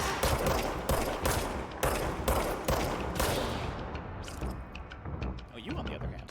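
Rapid bursts of video game gunfire, several sharp volleys in quick succession, loud at first and then thinning out, with voices talking over the shooting.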